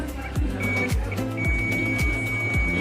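A steady, high electronic beep from a multimeter's continuity buzzer sounds while a capacitor on a mobile phone PCB is tested. It holds in two long stretches over a louder, rhythmic backing track with repeating swooping tones.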